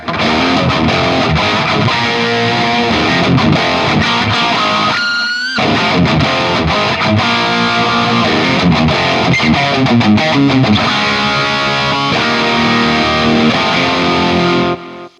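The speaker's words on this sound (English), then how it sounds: "that's fantastic, that's super 80s distortion" Heavily overdriven electric guitar with overdrive on setting 1 plays a chugging riff with a brief pause partway, thick crunchy 80s-style distortion, loud and close.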